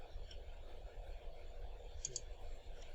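Two quick computer mouse clicks while navigating a software settings menu, sharp and close, over a low steady room hum.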